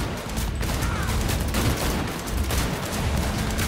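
Dense gunfire in Cyberpunk 2077, rapid overlapping shots crackling loudly and close for several seconds with no talk.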